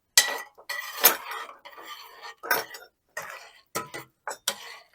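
A metal spoon stirs garlic into hot chicken broth in a pot, giving close, irregular clinks and scrapes in short bursts with quiet gaps and no talking.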